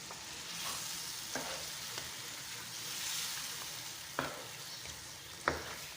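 Masala-marinated chicken sizzles and fries in a pan while being stirred, a steady hiss broken by occasional sharp clinks and scrapes of the spoon against the pan.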